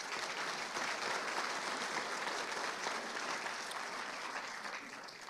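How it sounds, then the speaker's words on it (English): A hall of fame ceremony audience gives a sustained round of applause honoring a men's flag football team, the crowd's clapping even and continuous before tapering slightly at the end. "If we could give a round of applause for that group."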